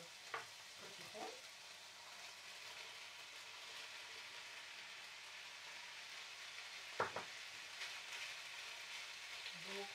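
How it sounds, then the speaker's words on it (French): Pumpkin tipped into a pan of sausage, a faint even sizzle of frying throughout, broken by a couple of soft clatters as the pieces drop in and get moved around. "Là, à ce moment, on va rajouter votre potiron."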